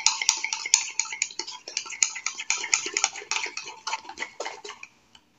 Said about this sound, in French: on met une cuillère, on remue, on remet une cuillère, on remue pour éviter d'avoir des grumeaux